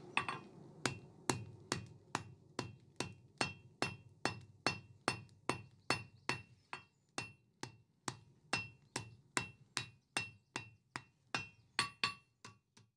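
A forged steel bulrush leaf is hammered in the step of an anvil to give it a slight cup, a long steady series of about thirty sharp, ringing metallic strikes at an even, brisk rhythm, close and loud with no talk.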